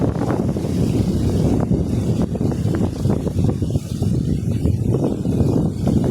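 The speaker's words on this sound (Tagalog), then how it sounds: "Lakas ng hangin talaga." Strong, gusting wind roars steadily across the microphone, a constant low rumble with buffeting surges throughout.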